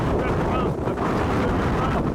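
Strong mountain wind buffets the microphone in chaotic high-altitude conditions, a loud, continuous low roar that fills the whole stretch with no pause.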